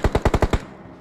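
Gunfire in the PUBG Mobile video game, a burst of six loud, evenly spaced automatic shots, then a brief fading tail.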